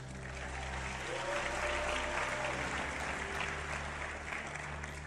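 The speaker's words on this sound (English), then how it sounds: "give her a round of applause." A large audience claps steadily at a motivational talk, a thick continuous wash of applause over a low mains-like hum, holding strong for about five seconds.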